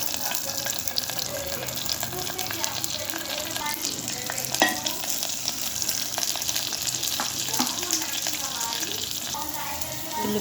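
Onions, green chilies and biryani spices fry in a pot, a steady sizzle with occasional stirring clinks and scrapes, close and continuous, no voices.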